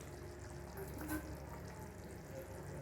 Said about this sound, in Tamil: பாருங்கள் எப்படி கொதிச்சிட்ருக்குன்னு